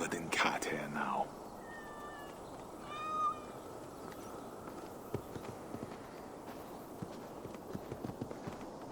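Cats meow in a video game, a couple of short, clear mews in the middle, after some louder thumps at the start, with soft footsteps and light ambient noise continuing afterward.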